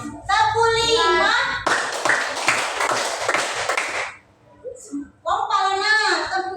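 A group of children in a classroom clapping game clap hands together in a rapid, sustained burst of about two and a half seconds, set between an adult speaking before and after.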